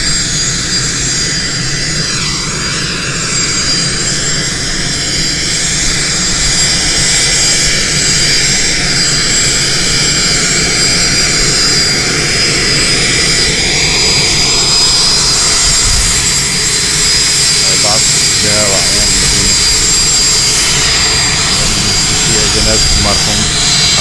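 Jet aircraft engines roar loudly and continuously as an airplane arrives at an airport in Nouadhibou, Mauritania, with a high turbine whine throughout. Someone speaks in Arabic over the engine noise.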